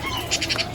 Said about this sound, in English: No, they're just small parakeet.